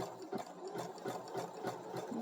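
A sewing machine runs a back stitch in a steady, rhythmic whir of close, repeated needle strokes, heard alone with no talking.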